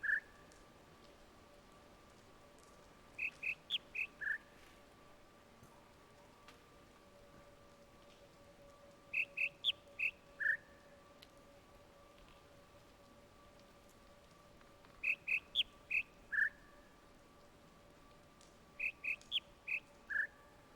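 Birds in the video game The Witness chirp in short bursts of four or five quick tweets that repeat every few seconds over a faint steady ambient hum, close and clear with no talking.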